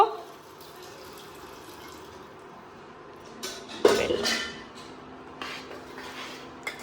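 Grated coconut and coconut milk being stirred together in a pot, quiet background with a burst of metal utensil clanks and scraping near the middle and a few softer knocks later.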